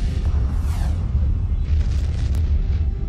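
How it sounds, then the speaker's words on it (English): A huge explosion from a massive star blasting out a gamma ray burst, rendered as a sustained deep rumbling roar that holds steady and loud throughout with a low, heavy boom. "a massive star explodes, sending a lethal burst of energy rocketing toward our planet"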